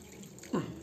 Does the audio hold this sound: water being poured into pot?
yes